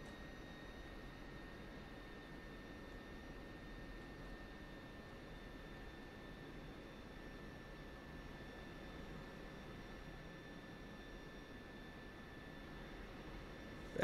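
A jet aircraft taking off in the DCS flight simulator game gives a faint, steady engine roar with a thin whine running through it, unbroken and distant for the whole stretch.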